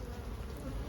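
Honeybees at an urban beehive in Paris give off a dense, steady buzz, close and continuous for under a second.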